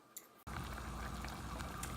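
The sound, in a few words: salsa roja boiling in a pot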